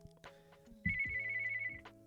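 An electronic ringtone from a phone receiving an incoming call, heard alone in a quiet room as a few short melodic tones and one sustained high note, moderately loud and close.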